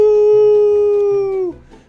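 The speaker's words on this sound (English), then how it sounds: "We have a howling coyote." A coyote howl from the video game Little Inferno, a single loud, steady, pure-toned wail lasting about a second and a half before dropping off sharply, followed by faint background sound.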